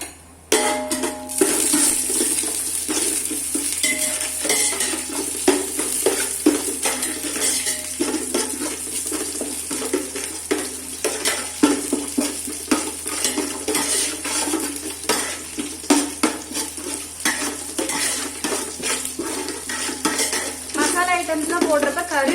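Whole biryani masala spices frying in hot oil for a chicken biryani, with a steady sizzle and frequent metallic stirring clinks of a utensil against the pan, loud and close throughout with no talk.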